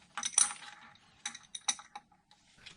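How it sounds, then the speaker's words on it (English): Metal clicks and ratcheting from a wrench turning the leveling bolt on a K&T 2HL milling machine motor base, a few close, irregular bursts with short pauses between. "adjusted up or down using the leveling bolt that I'm adjusting right now"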